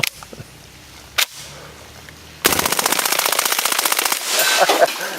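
A few single clicks lead into a long, loud full-auto burst from an HK MP5 9mm submachine gun fired from the hip at close range, a fast steady rattle lasting about three seconds.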